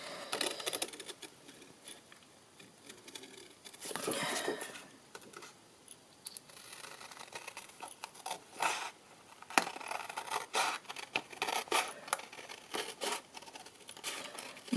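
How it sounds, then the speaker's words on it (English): Metal snips cut through paper while an envelope is trimmed, giving quiet irregular snipping and crinkling with soft rustles, close and faint, with no talking. "grab my snips"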